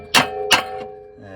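Metal suspension part on a BMW E36 tapped with two sharp ringing clangs about a third of a second apart, each leaving a short metallic ring.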